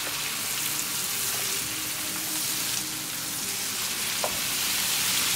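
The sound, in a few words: shrimp curry with bell pepper being stirred and fried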